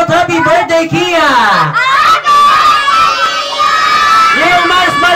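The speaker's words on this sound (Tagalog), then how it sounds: "Let's shout happy birthday, Kia!" A crowd of children at a birthday party shouts happy birthday together, loud and close, voices rising and overlapping in a sustained chorus with excited, scream-like peaks.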